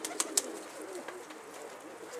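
A pet bird named Sabun, a pigeon, gives a soft cooing call with a couple of sharper chirps near the start, faint and close against a quiet room hum.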